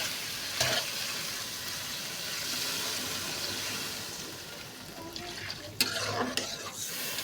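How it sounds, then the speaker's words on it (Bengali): Potatoes sizzle in a pan of frying spices as gravy water is poured in for a singhi fish curry with tomato, giving a steady hiss with a couple of sharper splashy bursts near the end. "দেখুন ঝোলের পানি অ্যাড করে দিলাম।"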